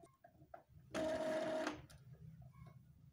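Epson L3110 inkjet printer running a head cleaning cycle gives a short mechanical whir lasting under a second, a buzzing motor sound that rises and stops abruptly amid quiet room noise.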